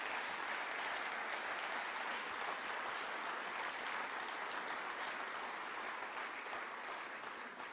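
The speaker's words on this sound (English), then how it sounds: "a quick round of applause for all the employees because they're here." An audience applauding employees at a Secretary of Defense awards ceremony: continuous, even clapping from a large room, moderately distant and steady throughout, easing slightly at the close.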